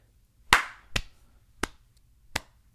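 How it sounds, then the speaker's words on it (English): Four separate sharp hand claps, made to sync audio and video, ring out one by one with gaps between them in an otherwise quiet room, the first the loudest and the later ones a little softer. "they say you need one big clap so that you can line up the audio and the video"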